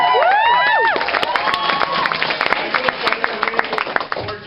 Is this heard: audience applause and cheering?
yes